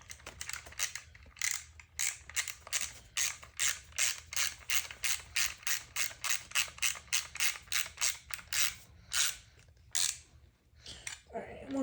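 A wrench tightening a bolt on a Tuttio controller upgrade kit gives a long run of steady, close ratchet clicks in an even rhythm, slowing and pausing near the end.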